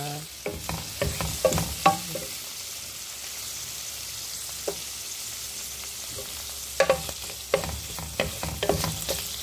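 Ginger sautéing in a hot pan, with stirring bursts and scrapes over a steady sizzle, busier at the start and again near the end, with no talk.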